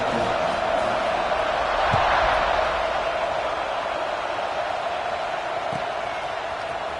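A large football stadium crowd at an LSU game roars in a broad, steady wash ahead of the kickoff. The noise sits far off and fairly quiet, with a commentator's voice faintly above it.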